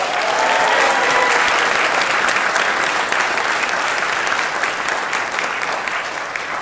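A crowd at a street-naming ceremony in Newport News applauds the city staff, a loud, dense and steady burst of clapping that fills the whole clip and eases slightly toward the end.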